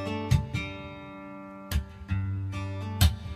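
Steel-string acoustic guitar fingerpicks the pattern from a song under a low sustained tone, with three sharp percussive slaps on the strings cutting through at regular intervals, close and intimate, no talking.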